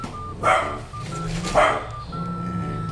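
A dog barks twice, loud and close, with a pause of about a second between barks, while a faint steady tone and low background rumble run underneath.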